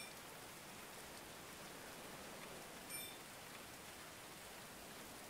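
Rain in the medieval colony-building game Going Medieval, a steady soft hiss of falling rain with no change in level, faint and distant, with a small blip near the middle.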